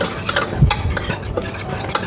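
Butter and flour cooking into a paste in a pan for homemade ham and mushroom lasagne, heard as soft close stirring and scraping over a light sizzle, with a few dull knocks and no voices.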